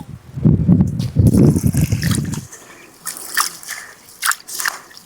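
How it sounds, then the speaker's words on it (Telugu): Toor dal and rice are washed in water, with close sloshing and rubbing of grains in a vessel, then lighter dripping and trickling of water. "మనం తీసుకున్న కందిపప్పు బియ్యాన్ని నీట్గా ఒకసారి కడుక్కొని"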